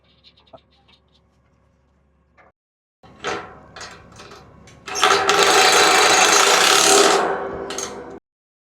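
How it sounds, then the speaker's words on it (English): A ratchet tightens 7/16 by 1.5-inch bolts on the rafters of a shade structure during installation. Soft taps and scattered clicks lead into a louder, continuous ratcheting whir up close before it stops abruptly. "there are 3 bolts up there that we're putting in"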